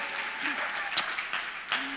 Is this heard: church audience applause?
yes